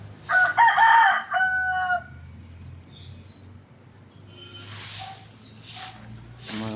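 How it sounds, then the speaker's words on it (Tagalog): Tagalog native chickens on a poultry farm crow loudly and harmonically for about two seconds, followed by quieter clucking and calls over a low steady hum. "Nagpaparami tayo ng manok."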